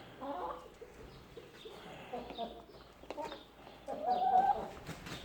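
Chickens cluck softly and intermittently nearby, with faint background noise and some murmuring between calls.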